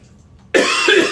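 A man gives a single loud, close, harsh cough after a brief quiet moment.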